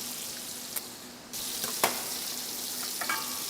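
A beef tenderloin steak browns in a frying pan, a dense steady sizzle that swells louder partway through, with a few brief clicks and taps over it and no talking.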